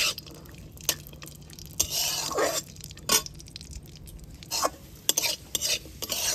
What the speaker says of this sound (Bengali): কাজু কিশমিশটা একটু ভেজে নেব।